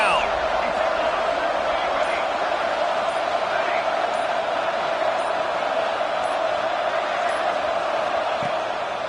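A stadium crowd in the CFB 26 college football game roars steadily on a third-down defensive stand, a dense, continuous wall of cheering that holds at a constant loud level throughout.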